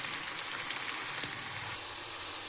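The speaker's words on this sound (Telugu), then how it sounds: "ఇంకా గ్రీన్ చిల్లీస్, ఇవి బాగా ఫ్రై అవ్వాలండి." A steady close sizzle of crushed garlic and green chilies frying in a pan with onions, with a faint stir-like tap midway and no voices.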